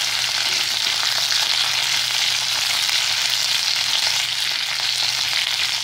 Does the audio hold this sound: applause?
no